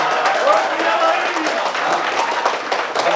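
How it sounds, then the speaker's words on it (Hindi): Audience applause at a shayari poetry recital at a Rajdhani College event, a steady, dense patter of clapping that carries on at an even level throughout, with a voice faintly mixed in. "भाई तालियां कम बजा रहे हैं आप"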